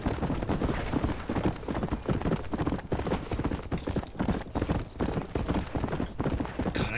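Horse hooves clip-clop at a steady gallop as a rider travels on horseback in Red Dead Redemption, loud and continuous for the whole stretch with no talk over it.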